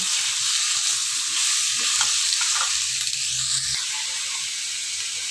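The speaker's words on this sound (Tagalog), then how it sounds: "Luto na yung sibuyas, bawang. Lalagay ko na yung meat. Lulutuin ko lang yan." Meat frying in a pan with onion and garlic for Ilocano pakbet: a steady, close sizzle and hiss runs throughout with light stirring, with no talk.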